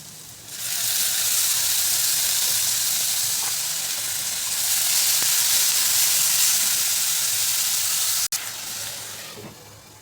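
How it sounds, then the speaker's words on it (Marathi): Tomato puree poured into golden fried onion in a hot pan bursts into a loud, steady sizzle and hiss that holds for several seconds, close and without talk. "त्यामध्ये आता आपण दोन टोमॅटोची प्युरी बनवून घेतली ती घालायची"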